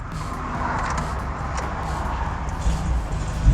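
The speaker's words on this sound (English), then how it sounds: "I have the good fortune to be sitting inside a 2007 Ferrari 430" A 2007 Ferrari 430 of nearly 500 horsepower is heard from inside the cabin while driving, giving a low, steady engine rumble with road noise. There are a few brief bumps near the end.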